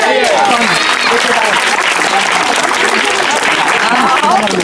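Crowd applause at a magic show in Banaras, steady and loud throughout, with a voice calling out over the clapping.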